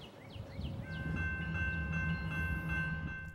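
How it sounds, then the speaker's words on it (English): A loaded BNSF coal train rounds a bend with a deep rolling rumble of heavy cars, while high squealing wheel-flange tones rise and fall over it. The sound is fairly close and steady, with no talking. "It doesn't take long before another loaded coal train rounds the bend off the Fort Scott sub."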